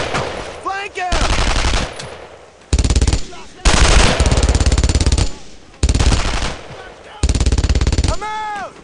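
Machine gun fire in the World War II shooter game Brothers in Arms: Road to Hill 30, loud repeated bursts of rapid automatic shots separated by short gaps, with game voices and whooshing effects between bursts.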